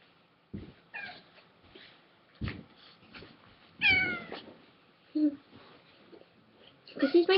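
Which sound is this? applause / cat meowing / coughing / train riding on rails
cat meowing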